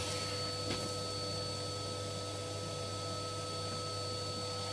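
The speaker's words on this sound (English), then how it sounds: "Just going to hoover that off there like that." Vacuum cleaner hoovering the hearth of a Chesneys Salisbury 5WS wood burning stove, a loud steady whining drone held throughout with a faint brief rattle early on.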